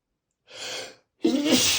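Two sneezes from a person sitting through a job interview, the first a soft breathy build, then after a short pause a sharper, louder burst close up.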